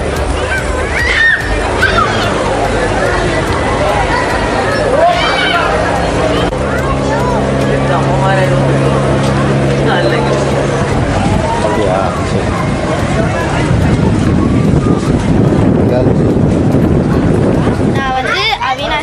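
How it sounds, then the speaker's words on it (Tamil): A tourist boat ride on a lake at Ooty, with water sloshing and wind buffeting the microphone beneath steady nearby chatter from passengers. "குடும்பத்தினருடன் படகு சவாரி செய்து மகிழ்ந்தனர்"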